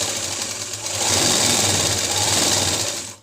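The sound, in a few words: sewing machine stitching a circular palazzo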